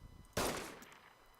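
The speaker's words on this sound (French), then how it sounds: "Je vais tirer une balle." A single gunshot fires in the video game DayZ. It starts with a sharp crack and trails off into a short fading echo, fairly quiet overall with no talk.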